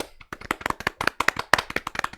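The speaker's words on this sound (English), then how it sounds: "should we give him a round of applause?" A crowd claps in a burst of applause, many hands striking together in quick, uneven rhythm, fairly close and lively, with no talking.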